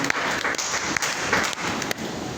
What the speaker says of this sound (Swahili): Tupige Yesu makofi mazuri.